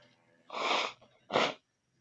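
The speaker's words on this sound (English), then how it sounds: "I should mute myself when I blow my nose" A person blows their nose in two forceful honking bursts, the first longer and the second shorter, close and fairly loud with a brief pause between.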